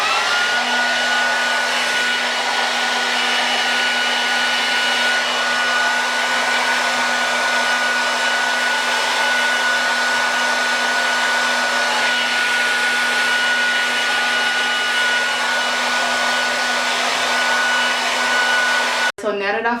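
A hair dryer blows steadily on wash-and-go curls, a loud continuous whirring hum that runs unbroken for the whole stretch and cuts off abruptly at the very end.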